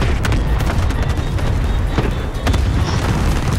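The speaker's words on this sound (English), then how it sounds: "Airstrike inbound." Airstrike explosions in Call of Duty rumble as a dense, continuous low boom with scattered sharp blasts, loud and close, and no voices break through.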